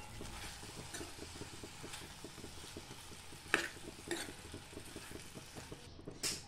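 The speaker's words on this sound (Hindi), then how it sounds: "शिमला मिर्च डालेंगे और पिसी हुई मूंगफली डालकर इसे अच्छे से मिक्स करेंगे" A spoon stirs potatoes, chopped capsicum and ground peanuts in a pan, making faint scraping and clicking under a soft sizzle. It is quiet and close, with a sharper knock or two near the end.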